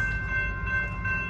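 A BNSF manifest freight train rolls through the Calwa diamond crossing in Fresno, California, a continuous heavy rumble topped by a sustained tonal horn-like ring.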